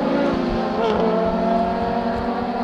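Historic race cars, including a 1975 Chevron, run on track at Portland International Raceway, engines holding a loud, steady sustained roar with a rich buzzing drone throughout.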